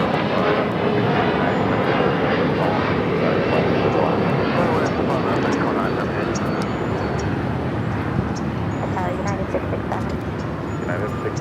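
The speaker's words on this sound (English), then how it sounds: "787-8 Dreamliner heading back to Tokyo Narita." A Boeing 787-8 Dreamliner moves on the ground at Los Angeles International Airport, its jet engines producing a loud, broad, continuous roar that holds steady and fades slightly near the end, with someone speaking over it.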